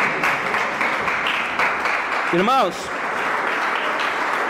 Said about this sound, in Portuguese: bater as palmas bem forte para Jesus